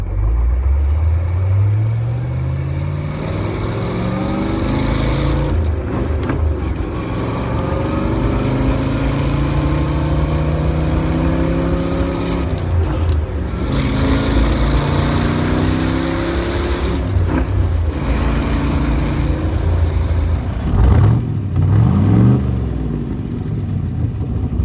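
A big-block C2 Corvette engine runs steadily and revs repeatedly, its pitch climbing and falling in loud, close sweeps that fill the whole stretch with no talking.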